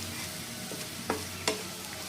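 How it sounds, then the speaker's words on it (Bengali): Masala spices fry in hot oil for an egg curry while being stirred, a steady close sizzle broken by two sharp scraping strokes of a spoon against the pan. "আর এখন মশলাটা ভালো করে কষিয়ে নেব"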